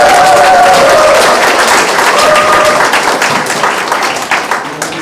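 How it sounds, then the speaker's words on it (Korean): Loud, sustained applause from an audience at a formal inauguration ceremony for a local advisory council, honouring the district mayor, with a brief cheering tone early on and the clapping slowly tapering. "뜨거운 박수 부탁드립니다"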